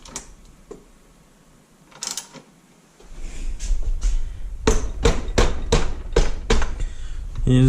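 A 1988 Suzuki RM 125 engine part tapped back and forth during teardown, a run of sharp metallic hammer knocks in quick rhythm after a few scattered taps, close and fairly loud.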